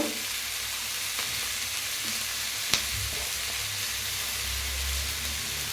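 Spices with chili powder frying in a pan, a steady loud sizzle with faint stirring scrapes and one sharp click, no voices.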